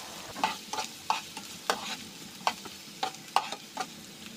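Garlic and onion sauteing in a pan for Filipino-style spaghetti, with a faint steady sizzle broken by regular scraping stirs of a utensil, about one every half second, close by with no talking.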